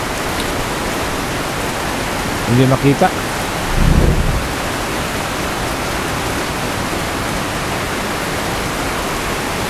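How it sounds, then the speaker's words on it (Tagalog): Steady rain pattering on a roof in the dark, a constant broadband hiss throughout, with a brief voice and a short low rumble partway through. "Kita nyo ang kaluskos ng ulan sa bubong"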